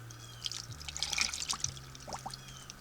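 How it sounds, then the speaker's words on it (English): Canned peppers with their juice poured into a slow cooker, a soft uneven trickle and splashing of liquid with a quiet low hum underneath and no talking. "And you pour these peppers right in."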